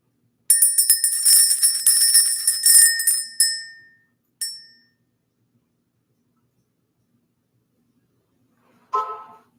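A bright metal bell used in a spiritual energy-clearing ritual is struck several times, ringing shimmering tones that die away into silence, followed by a short knock or tap near the end.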